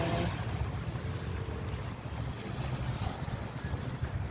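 Steady wind rushes across an open seaside setting at the end of summer, a constant low roar with faint surf underneath and no voices.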